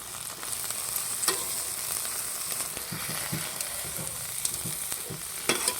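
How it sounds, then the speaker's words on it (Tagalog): String beans (sitaw) sautéing in a pan as a simple ginisa dish, giving a soft, steady sizzle with faint scattered clicks and scrapes of stirring, and no talking. "Bali, ginisa lang po ang akin pong luto dito"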